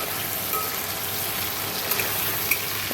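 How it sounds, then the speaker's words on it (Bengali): Potatoes fry in hot oil in a pan, giving a steady dense sizzle with a few small pops, close and constant throughout, with no voices. "এখানে আলুটা ভাজা হচ্ছে"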